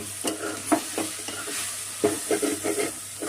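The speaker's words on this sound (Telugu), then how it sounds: "ఇప్పుడు ప్లేట్ తీసి ఒకసారి కలబెట్టుకున్నాము." A spoon stirs bottle gourd curry cooking in a pan over a medium flame, with a series of close scraping strokes in two bursts over a faint continuous sizzle.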